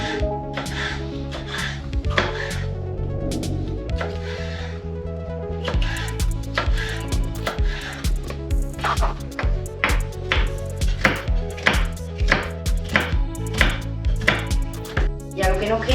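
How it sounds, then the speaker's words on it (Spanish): A knife chops red bell pepper into small pieces on a wooden board, giving rapid, evenly spaced close knocks that run in quick bursts with brief pauses, loud and alone without talk. "También el pimiento rojo, lo cortamos pequeñito."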